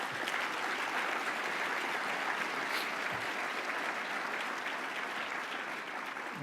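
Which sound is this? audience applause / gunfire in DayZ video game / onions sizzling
audience applause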